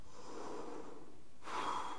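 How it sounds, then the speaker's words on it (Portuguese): A trumpet player does a breathing warm-up, drawing a soft airy breath in through the mouth that is followed by a louder, sharper rush of air near the end. "Iremos respirar pela boca"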